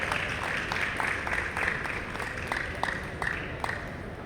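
An audience claps continuously at a Maha Shivratri event at NESCO in Mumbai, welcoming a speaker to the stage. The applause is steady, with sharp individual claps standing out above a dense wash of clapping from a large crowd.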